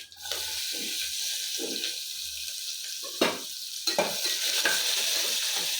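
Curry leaves and chopped onion go into hot oil for a sprouted methi rice bath, and a loud, continuous sizzle follows with scraping stirs and a couple of sharp spatters, close to the pan and with no talking.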